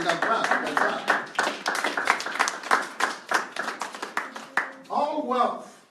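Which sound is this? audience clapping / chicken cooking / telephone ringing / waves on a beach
audience clapping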